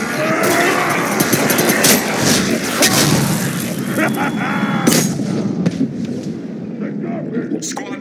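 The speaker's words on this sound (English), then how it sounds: "Darn, I got shot by a grenade." A grenade blast and gunfire in the video game Mass Effect 3, loud and continuous, with dense shooting and booms running nearly all the way through and game voices mixed in.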